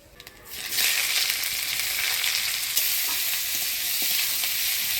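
Onion and nigella seeds hit hot oil in a village kitchen, a sudden loud hiss that swells within a second into a steady, close, bright sizzle with no speech.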